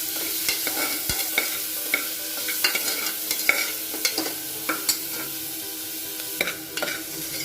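Onions frying in a pan with cinnamon, cloves, cardamom, fennel and a pinch of hing, a steady sizzle punctuated by frequent scraping stirs of a spoon against the pan, close and alone without speech.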